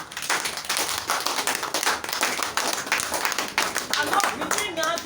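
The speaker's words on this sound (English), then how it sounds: "we must give also ourselves a hand of applause" Audience applause at a forum for physically challenged people, a crowd clapping in a dense, lively patter throughout, with a voice starting to speak near the end.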